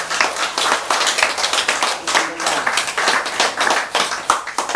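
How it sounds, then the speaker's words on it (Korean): Audience at a Buddhist sutra lecture claps in a dense, steady burst of many hands, close and lively, with occasional voices mixed in. "알았으면 박수."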